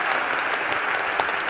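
An audience claps together in a short, dense burst of steady applause at close range, with no voices on top.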